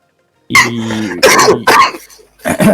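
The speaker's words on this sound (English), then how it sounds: "That was me laughing, but I was coughing." Several harsh coughs and throat-clearing bursts, close and loud, in quick fits with a short pause between.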